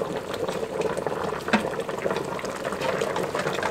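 Beef short ribs simmer in a covered pot, a steady bubbling and hiss of liquid cooking continuously at close range with no talking.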